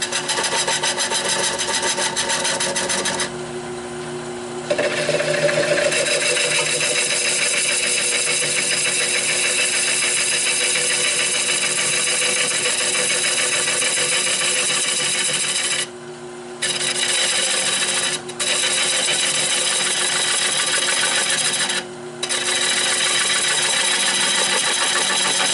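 A gouge held almost sideways takes fine cuts on a big maple blank with a punky middle, spinning on a woodturning lathe. It makes a steady, continuous raspy scraping hiss over the lathe's hum, with a few short breaks in the cut and no talking.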